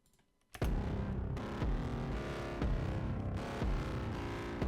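Heavily clipped, doubled kick drum with reverb removed drives a dense music track, thumping loud and steady after a brief quiet start, with no voices.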